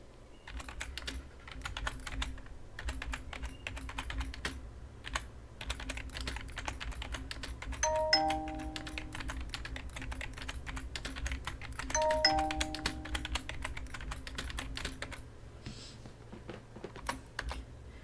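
Computer keyboard keys clatter in a rapid, steady stream of close clicks for the whole stretch, interrupted twice by a two-tone doorbell-like chime.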